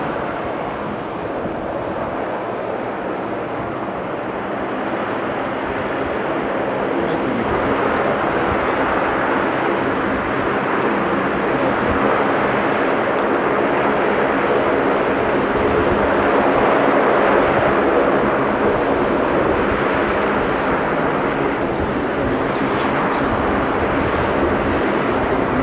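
A Saab turboprop takes off at Sydney airport, its engine roar swelling steadily and staying loud and broadband throughout, mixed with some wind buffeting on the microphone.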